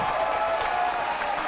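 A crowd at the SMITE World Championship 2018 esports event applauds in a steady, dense wash of clapping that holds at an even level throughout.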